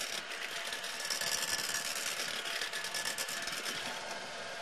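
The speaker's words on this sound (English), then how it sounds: "I'll use the electric whisk, and it's going to take me about 2 to 3 minutes to do that" An electric whisk runs steadily, whipping egg whites to soft peaks, a constant close whirring buzz with no break throughout.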